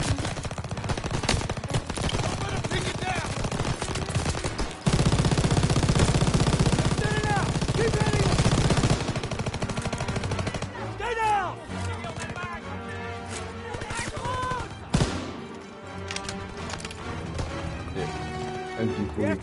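Rapid gunfire bursts in a Call of Duty WWII battle, loud and dense, with an intense volley in the middle, shouted voices and other battle noise mixed around the shots.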